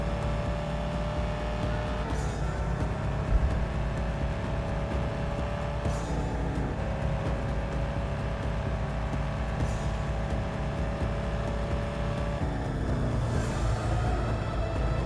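A car engine in a racing video game drones and revs steadily, shifting pitch as it climbs through gears, loud and continuous with no voices.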